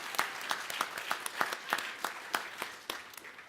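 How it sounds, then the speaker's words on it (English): A round of applause for parents at an Inauguration Day 2025 gathering, steady scattered clapping from an audience with individual claps standing out, moderately distant and soft. "So let's have a round of applause for parents."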